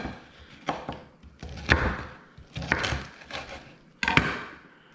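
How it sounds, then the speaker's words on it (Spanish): A knife chopping crisp, meaty pork rinds (chicharrones) into small pieces on a wooden board, in four sharp, close thunks spaced about a second apart, each with a brief crackle. "ahora vamos a picar nuestros chicharrones"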